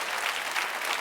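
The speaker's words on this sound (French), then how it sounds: "On les applaudit tous les 4 très très fort" Brief burst of studio audience applause for four game show contestants, dense even clapping filling the whole moment.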